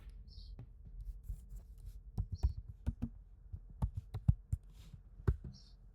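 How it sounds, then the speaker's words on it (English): A command is typed on a computer keyboard in irregular bursts of soft, close keystroke clicks with short pauses between groups, in a quiet room with no talking. "I will be typing it."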